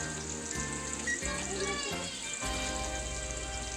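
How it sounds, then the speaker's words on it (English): Bologna gravy simmering in a grease-lined pan, a steady close bubbling hiss under background noise with a few soft clatters, no talk heard. "see it simmering?"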